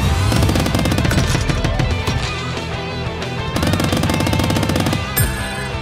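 Submachine gun fire in the Squirrel With A Gun video game, loud rapid automatic bursts of closely spaced shots, nearly continuous with a brief break and a short click near the end.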